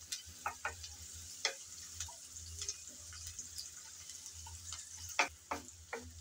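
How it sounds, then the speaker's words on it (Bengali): Chopped onion sizzles softly in hot oil in a pan while being stirred, with scattered clicks and scrapes of the spatula over a low, steady frying hiss. "পেঁয়াজ নেড়ে চেড়ে হালকা করে ভেজে নেব।"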